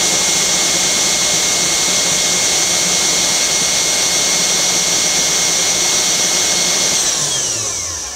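A Genmitsu ProverXL 4030 CNC spindle motor whines loudly and steadily with a high, sustained tone, then its pitch slides downward over the final second as the speed is lowered.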